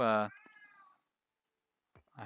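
An old pet cat gives two meows close by, one loud and clear at the start and a quieter drawn-out one just after. A short silence follows, then a voice starts at the end.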